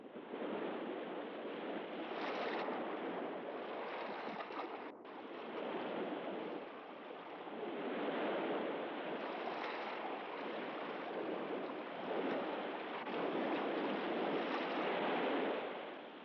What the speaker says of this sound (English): The ship is sailing away!